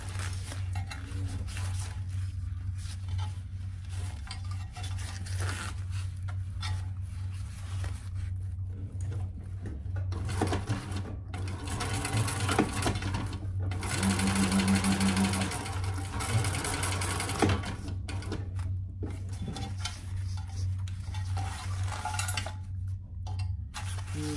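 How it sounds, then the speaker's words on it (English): A Thor sewing machine top stitches a waist pack, its steady mechanical whir and needle clatter rising for a stretch in the middle over a constant low motor hum, with quieter handling sounds before and after. "let's turn that right side out and top stitch that other side"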